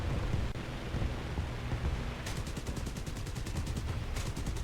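Cannon fire from a P-61C in War Thunder: rapid bursts of gunfire beginning partway through and returning near the end, over a steady loud engine roar.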